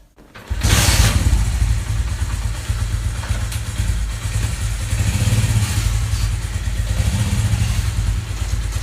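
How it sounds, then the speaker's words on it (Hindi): A Honda CD 70 motorcycle engine starts up after a brief moment of quiet, then runs at a steady, loud, close chugging idle with a mechanical clatter for the rest of the clip. "मैं बाइक को स्टार्ट करता हूँ और फिर हम उसके क्लच को चेक करते हैं"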